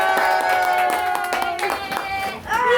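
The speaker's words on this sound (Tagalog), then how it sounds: "Uy, ba't walang palakpak kay Rayleigh?" Hands clapping at a New Year gift exchange party, a short burst of claps from a small group under loud music and voices.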